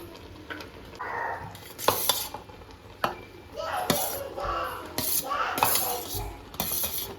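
Cooked rice scooped and tipped into a pot layered with chicken biryani masala, with a spoon scraping and clinking against the metal, repeated irregular knocks and soft sizzling close by.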